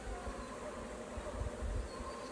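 Honey bees in an open hive being inspected frame by frame during a transfer into brood boxes; a soft, continuous low buzz close by, steady and unbroken with slight swells, with no talking.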